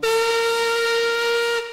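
A steam engine's whistle blown long and loudly, one steady, bright, sustained blast, close and strong, that holds for most of the moment before cutting off.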